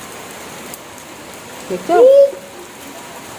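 Rain falls as a constant soft hiss. A short spoken word and a brief higher-pitched vocal sound rise briefly above it.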